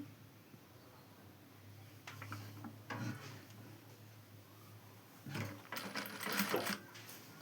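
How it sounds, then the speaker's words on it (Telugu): Sewing machine running a straight side seam on a long frock, heard in two short bursts of fast mechanical stitching with quiet pauses between, close by and moderately loud with no talking. "ఇటు సైడ్ స్ట్రైట్గా ఒక కుట్టు వేసేసుకోవడమేనండి"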